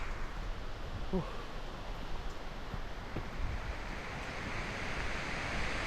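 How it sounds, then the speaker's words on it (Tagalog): A forest waterfall pours steadily, a broad continuous rushing roar with wind buffeting the microphone, heard fairly close and alone. "Ito na yun, waterfall. Narinig nyo na guys ang hulog ng tubig."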